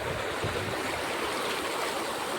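Floodwater rushes steadily across a farm, a continuous broadband wash of flowing water with no voices.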